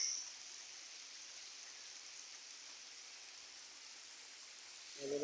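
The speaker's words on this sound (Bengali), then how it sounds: "অনেক জোরে বৃষ্টি হচ্ছে দেখেন" Heavy rain falls in a steady, soft wash of hiss heard from some distance, even and continuous, with no voices.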